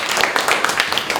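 A crowd at a Moon landing 50th anniversary event claps in a dense, steady burst of applause lasting about a second, close and fairly loud.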